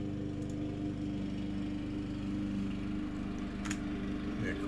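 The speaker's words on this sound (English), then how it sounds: "Lawnmower is getting annoying." A lawn mower drones steadily outdoors at a distance, a low continuous engine hum beneath a quiet garage setting, with a few faint clicks over it.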